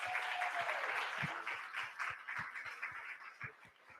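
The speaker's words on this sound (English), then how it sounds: "Can we just get a round of applause for all our speakers?" Applause for the speakers at a leadership summit in Atlanta, a moderate crowd clapping with a few sharp individual claps standing out, tapering off gradually.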